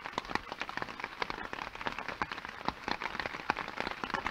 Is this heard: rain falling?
yes